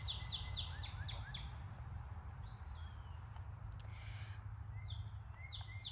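Small birds chirp outdoors in quick bright bursts of high tweets, loudest at the start and again near the end, over a low steady background rumble.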